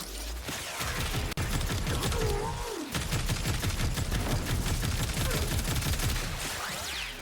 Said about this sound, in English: shoot these guys in the head